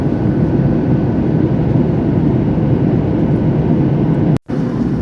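A United Boeing 737 MAX 9 cruises at 34,000 feet between Newark and Chicago, filling the economy cabin with a steady, loud, broadband roar and low rumble. A brief dropout occurs near the end.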